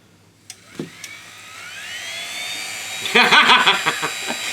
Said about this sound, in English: Two working DC motors straight out of a couple of thrown away vacuum cleaners.